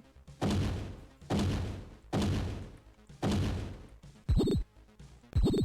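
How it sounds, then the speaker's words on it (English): Jaguar robot's concussion cannon in the DOS fighting game One Must Fall 2097: a series of heavy booming thuds fired at a steady pace, followed by two sharper, tonal blasts, with no speech. "That's Jaguar's concussion cannon."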